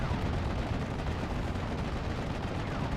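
Gunfire in the World War II strategy game Steel Division: Normandy 44, heard as a dense, continuous wash of distant artillery and small-arms shots with no clear single blasts.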